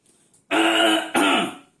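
A person's voice imitates a whooping cough with two harsh, barking coughs in quick succession, loud and close, after a faint breath.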